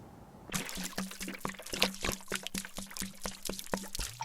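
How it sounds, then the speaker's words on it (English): Engine oil glugs into the fill opening of a Mercedes-Benz engine in a steady, rhythmic series of close pouring gulps and splashes that lasts about four seconds, with no voices. "Let's add some oil."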